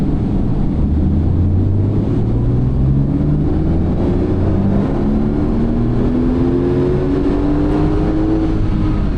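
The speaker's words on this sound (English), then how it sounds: "Can it really do 711 horsepower? We're going to find out now by running it on the dyno." Porsche 911 Turbo S engine running on a dyno, a loud steady drone with the pitch climbing slowly through the gears, continuous and close.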